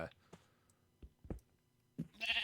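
Sheep bleating in Minecraft, a few short separate bleats at moderate distance with a louder burst at the end.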